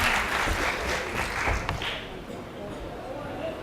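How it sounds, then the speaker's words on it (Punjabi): Audience applause at a Punjabi stage drama, a dense burst of clapping that gradually thins out, with voices mixed in underneath. "ਜਿਹੜਾ ਆਪਣੀ ਮਾਂ ਨਾਲ ਪਿਆਰ ਕਰਦੇ ਨੇ ਖੁੱਲ ਕੇ ਤਾੜੀਆਂ ਮਾਰੋ"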